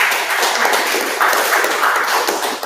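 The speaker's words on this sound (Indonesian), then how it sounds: "Berikan tepuk tangan untuk kelompok 1." Students in a classroom clap for a group, a loud, dense burst of hand clapping lasting a few seconds with no talk.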